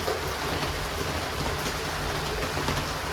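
Heavy rain pours down during a thunderstorm with booming thunder and flashing lightning, a dense, loud, unbroken roar of water with low rumbling underneath.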